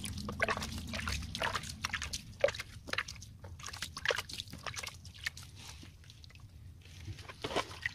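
Water is splashed onto a masonry wall before plastering. Irregular wet splashes and dribbles repeat steadily over a low background rumble, fairly faint and with no talking.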